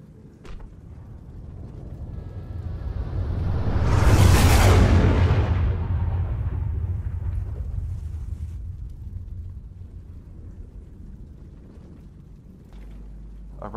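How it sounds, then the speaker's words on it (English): A great ball of sickly green fire crashes to earth as a dramatic effect: a deep, swelling rumble that builds to a loud whooshing roar around the middle, then fades into a long low rumbling tail, no voices. "whatever it was, broke through the roof of dark clouds and fell to the earth, a great ball of sickly green fire"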